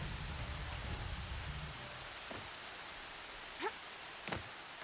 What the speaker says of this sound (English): I'm enjoying the rain too much.